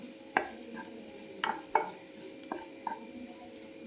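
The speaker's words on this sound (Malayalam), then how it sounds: "നന്നായിട്ടൊന്ന് ഇളക്കി കൊടുക്കാം." Beetroot pickle is stirred in a pot after asafoetida powder is added, with a handful of sparse, quiet scrapes and taps of a spoon against the vessel over a faint background hum.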